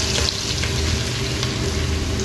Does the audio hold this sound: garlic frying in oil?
yes